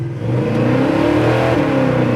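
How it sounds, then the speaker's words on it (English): A 1965 Chevy Impala with a 427 V8 and positraction rear end revving hard as its tires spin, a loud sustained engine roar with tire noise, close by and with no talk. "Just frying the tires there."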